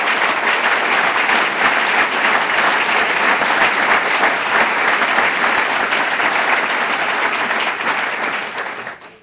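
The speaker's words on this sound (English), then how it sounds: "So a round of applause for Gabriel." Sustained applause from a large audience at a 100th-birthday celebration, loud and dense throughout, fading out in the final second.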